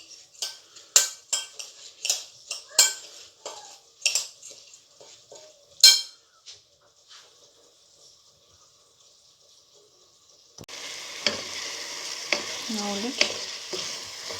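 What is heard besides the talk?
onion and meat frying in a pot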